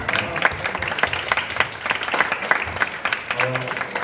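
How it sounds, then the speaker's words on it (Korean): Students in a church middle-school Sunday service applaud to congratulate a teacher, a dense, steady round of clapping from a room full of people lasting throughout, with some voices mixed in. "우리 함께 축하의 박수를 드리겠습니다."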